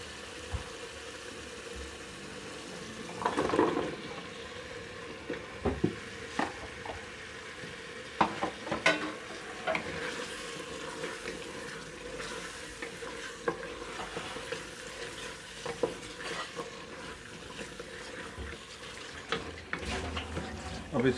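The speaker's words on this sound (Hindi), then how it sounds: "अब इसको भूनेंगे आलू को ताकि आलू पक जाए।" Potatoes fry in roasted masala for aloo gobhi, with a low continuous sizzle and scattered clinks and scrapes of a spoon stirring the pan, close and fairly quiet.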